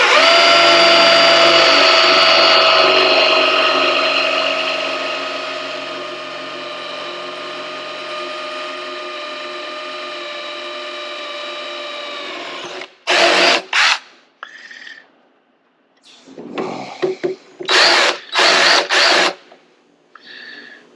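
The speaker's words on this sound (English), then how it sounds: "I got my 90-degree drill out." A right-angle power drill whines steadily for several seconds while drilling through thick powder coating on a Honda 450R, then stops; short bursts of drilling follow in quick, uneven spurts, loud and close.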